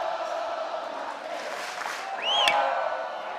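Home crowd at a college baseball game in the 10th inning, Kentucky hosting West Virginia, a moderate roar of cheering and whoops that swells near the end, with some voices audible amid the noise.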